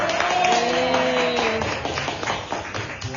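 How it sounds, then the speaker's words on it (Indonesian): A group applauds Bu Sulma after she presents her vision and mission at a school session. Scattered hand claps come in quick, uneven bursts, with a brief voice-like tone near the start, then the clapping fades toward the end. "Ya, tepuk tangan untuk Bu Sulma."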